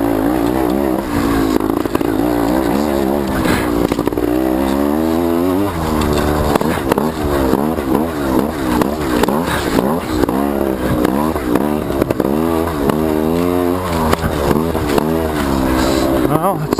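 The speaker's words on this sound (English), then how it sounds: "it seemed to rev up pretty good there" Enduro motorcycle engine revving hard during a race, a loud close continuous drone with rapid rising and falling pitch sweeps as the throttle opens and closes.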